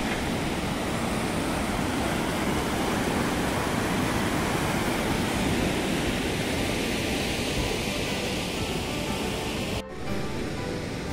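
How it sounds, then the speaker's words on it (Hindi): The Alaknanda river rushes directly below Brahma Kapal Tirtha, heard as a loud, continuous roar of fast water that fills the whole stretch without pause, with a brief knock near the end. "और ये ठीक नीचे अलकनंदा नदी।"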